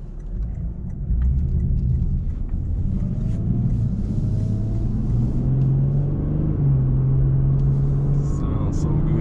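Stock 2021 Lexus IS 350 F Sport AWD engine rumbles and revs continuously from inside the car, a steady low drone rising slightly in pitch, with some wind noise.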